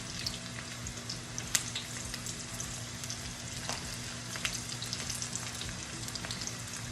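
Pieces of food frying steadily in a hot pan after being flipped to brown on the other side, a continuous close sizzle with scattered spits and crackles throughout, no talking.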